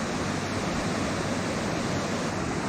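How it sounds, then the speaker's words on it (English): Lower North Falls, a roughly 30-foot, moss-covered waterfall in Silver Falls State Park, Oregon, pours in a steady, full roar of rushing water, close and constant with no voices. "And our 7th waterfall, Lower Falls."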